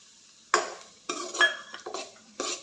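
Semolina (rava) with dry fruits roasting in a pan for sheera, a spoon scraping and clinking against the metal in several separate strokes with short quiet gaps, close and fairly soft.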